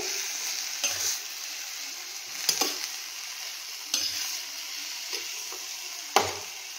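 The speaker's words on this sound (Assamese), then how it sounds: "এতিয়া এইখিনি এনেকৈ অলপ দেৰি ভাজি থাকিম" Bottle gourd pieces with salt and turmeric fry in a pan over a low gas flame, giving a soft continuous sizzle broken every second or so by the scrape and knock of a spatula stirring.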